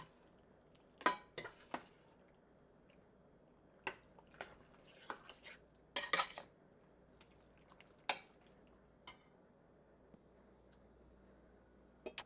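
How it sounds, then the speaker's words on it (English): Cheesy pasta being stirred in a pot with a spoon, then a lid set on top: a scatter of sharp, quiet clinks and scrapes spread over the stretch, each short and separate, with a soft hush underneath and no talking. "we're going to give this a good stir and then put the lid on"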